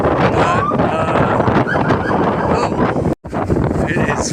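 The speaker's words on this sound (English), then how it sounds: "it is really windy out here today" Strong wind buffets the microphone on a beach beside a bay in Salvador, Bahia, a loud, steady roaring rumble with waves churning underneath and one brief dropout near the end.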